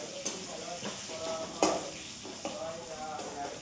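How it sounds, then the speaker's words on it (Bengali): Potatoes frying in oil in a wok for egg curry in a home kitchen, a steady soft sizzle with occasional stirring scrapes and clinks, fairly close and moderately quiet. "এই এক ডিমের আলু ভেজে দিচ্ছি"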